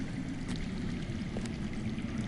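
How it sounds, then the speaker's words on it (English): Water flows underground, heard as a steady, muffled rushing wash with a faint trickle quality, continuous and fairly close, with no voices over it. "That's water. I hear water. From underground."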